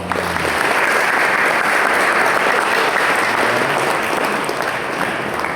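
A loud, dense round of audience applause fills the room at a book talk, honouring the book's authors. The clapping stays full and steady from start to finish without any speech over it.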